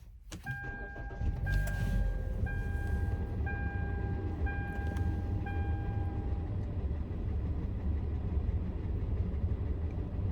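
A van's starter whirs and the engine catches, settling into a steady low idle, while a chime beeps repeatedly in the background.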